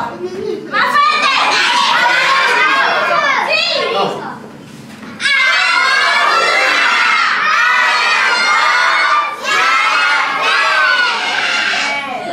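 A crowd of children shouts loudly together at a clown show, the group yells rising in two long sustained bursts with a short dip between them.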